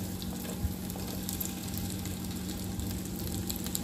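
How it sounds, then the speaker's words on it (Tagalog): Onions frying in a pan for a mixed vegetable dish, a dense steady sizzle with faint crackles over a low background hum, close and continuous with no talk. "Tinunog po natin ang sibuyas."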